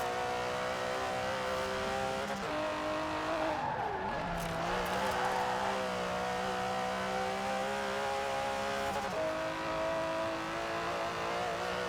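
An Aston Martin DB11 with a 5.2-litre twin-turbo V12 driving in Forza Horizon 4, a steady, smooth engine drone with distinct gear changes and pitch shifts, revving up and settling between shifts, loud and close.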